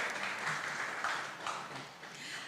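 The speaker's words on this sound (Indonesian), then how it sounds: "kita beri tepuk tangan untuk Ibu Uti." An audience at an Indonesian Mother's Day talk show applauds an award-winning woman guest. The clapping is soft and somewhat distant, a steady wash of hands that swells slightly and eases off.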